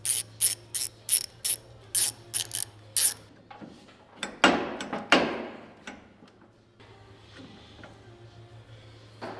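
A shop clamp being loosened to pull an electric motor off a shaft: a run of sharp, evenly spaced ratcheting clicks, then a few louder clanks and knocks that fade into quiet shop hum.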